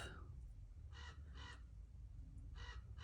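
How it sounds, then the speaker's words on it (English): A crow caws three times in separate harsh bursts, moderately distant, over a steady low background rumble. "I also hear a crow going off."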